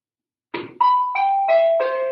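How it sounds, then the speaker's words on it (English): An electronic bell goes off in a classroom, sounding a short sequence of clear, descending chime tones, loud and alone after a moment of silence. "isn't it wonderful that the bell went off?"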